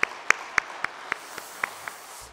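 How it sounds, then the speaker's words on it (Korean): Slow, spaced claps in a church service, about eight distinct sharp hits at an even rhythm, fairly close and moderately loud over quiet room tone, fading slightly toward the end. "우리 큰 박수로 영광 올리겠습니다."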